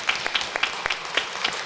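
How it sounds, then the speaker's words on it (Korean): A church congregation applauding to welcome a new education pastor during a Sunday service, brief scattered claps with sharp individual hits, modest in volume. "앞으로 나올 때 우리 박수로 환영하겠습니다."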